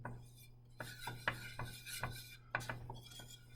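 Butter being stirred in a pan to start a roux for a bechamel sauce, heard as a series of close, distinct scraping and clinking strokes of a utensil against the pan over a low steady hum.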